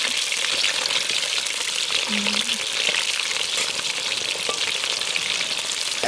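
Palm weevil larvae frying in oil: a loud, steady, close crackling sizzle that runs unbroken throughout, with a faint brief tone partway through.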